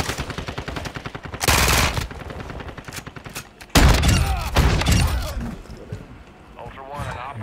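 Automatic gunfire bursts in the DMZ extraction shooter, loud and close, coming in heavy volleys between game radio chatter and a squad voice.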